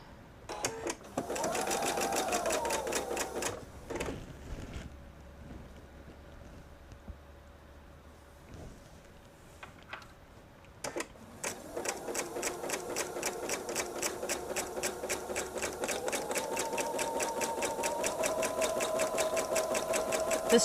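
A sewing machine stitches quilt pieces in two bursts: a short run, then a pause, then a long steady stretch whose rapid mechanical rhythm holds at an even pace, close and clear.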